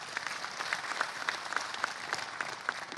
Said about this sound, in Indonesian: Terima kasih, tepuk tangan untuk KPU.